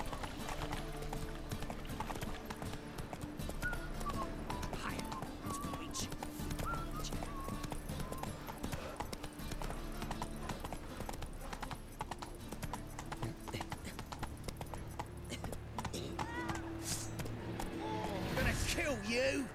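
Roach, Geralt's horse in The Witcher 3: Wild Hunt, gallops with rapid, continuous hoofbeats over a musical score and some background voices, ending in a louder whinny-like swell.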